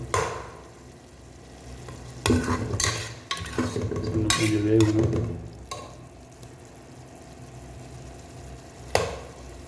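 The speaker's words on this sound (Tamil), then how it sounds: "இப்போ கொஞ்சம் மஞ்சள் தூள் மிக்ஸ் பண்ணிக்கலாம்" Spoon stirring turmeric powder into a Chettinad beef masala in a pan, with scraping strokes and soft sizzling, louder bursts of clattering stirring in the middle and a sharp knock near the end; no talking.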